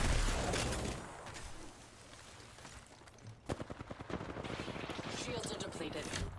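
Bursts of gunfire in the battle royale shooter Apex Legends, a dense volley early on, then a run of sharp repeated shots after a lull, loud and close with game sounds around them.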